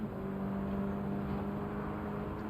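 A Subaru BRZ STI in Gran Turismo 7 revs hard under acceleration, a steady, loud engine drone with a sustained whirring tone running through the whole stretch and no talk over it.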